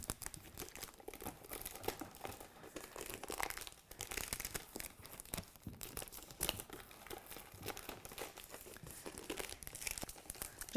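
Cellophane crinkling and crackling continuously as it is wrapped and overlapped around a lampshade, close and steady with dense rustling bursts throughout, no talking.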